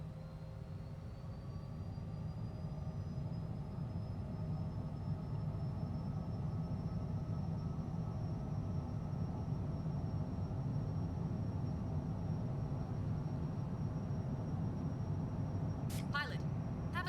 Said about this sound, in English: And we would go ahead and take off.